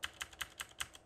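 Computer keys are tapped in a quiet, even rhythm, about six soft clicks in a second, close by with no talking.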